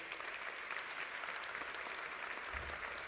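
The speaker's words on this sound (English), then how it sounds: "Big applause for our guest here." Applause for a guest at a wellness conference panel, a continuous, even patter of many hands clapping at a distance, fairly quiet and steady throughout with no talk over it.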